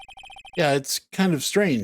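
A chirpy electronic phone ringtone from the Ace Attorney video game trills in a quick, evenly spaced burst of short beeps, then stops as a voice starts talking.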